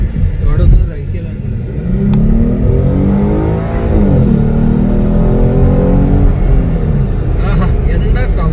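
A rental car's engine on a drive in Dubai revs up and rises in pitch, with a sustained mid-range rumble and a clear surge and fall partway through, close and loud under occasional talk.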